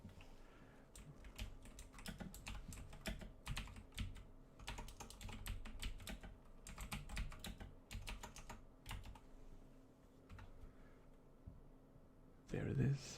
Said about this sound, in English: you get to hear some keyboard ASMR